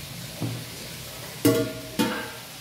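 Cauliflower frying in a pan for a cauliflower and potato curry, a low steady sizzle broken by two sharp, loud bursts of spattering oil a moment apart, close up with no talking.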